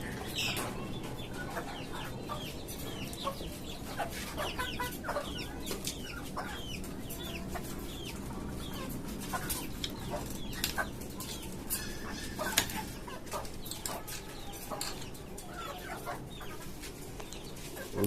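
A flock of chickens and a tiger rooster on a poultry farm cluck continuously, with scattered sharp calls and occasional wing flaps in a busy, steady barnyard chorus.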